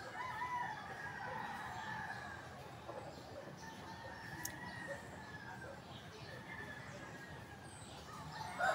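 Fighting-breed roosters and chickens in a bamboo backyard, faint crowing and clucking from several birds at a distance over a steady outdoor hiss, no clear talk.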